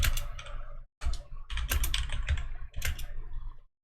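Typing on a computer keyboard runs in quick, dense bursts of clicking keys, broken by two brief pauses, fairly close and with no voices.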